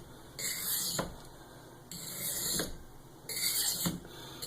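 A knife is sharpened on a waterstone with firm pressure, giving three long gritty rasping strokes, each a separate sweeping scrape with short pauses between, close and clear with no talk.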